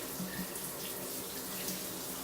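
Tap water runs in a steady, continuous hiss and splash as coffee scrub is rinsed off, close and even with no talk.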